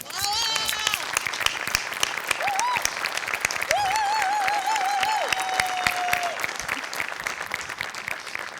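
Audience in a Marathi comedy show rises for standing applause honoring Sachin Goswami, a loud sustained wash of clapping with cheering voices and whistles over it throughout.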